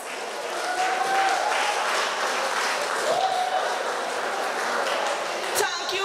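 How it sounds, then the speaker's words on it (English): A large audience gives a round of applause for sign-language interpreters at a university food and research showcase, dense steady clapping throughout with a faint voice underneath. "I want you all to give them a big round of applause"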